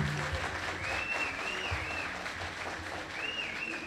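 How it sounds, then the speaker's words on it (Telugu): An audience at a state conference of transport corporation employees' welfare association claps in steady, continuous applause, moderately distant and filling the hall for the whole stretch. "అందరూ చప్పట్లతో సారుకు మీరు స్వాగతం పలకండి"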